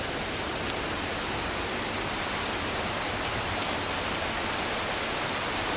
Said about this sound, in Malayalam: നല്ല കാറ്റുണ്ട്, നല്ല മഴയും ഉണ്ട്.